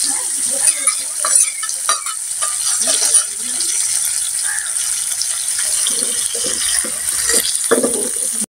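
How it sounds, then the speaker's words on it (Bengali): Fish frying in a pan with a loud, continuous hiss of oil, along with clattering and scraping from stirring or turning the pieces. "এখন আমি মাছগুলো ভেজে নেব।"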